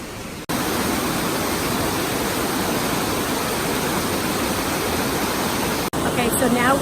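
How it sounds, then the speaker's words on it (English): Steady roar of a waterfall on the Franklin Ghost Town trail, loud and close, a dense unbroken rush of falling water filling the whole clip with only a brief dip near the start and end. "Now we are actually going to go behind the waterfall"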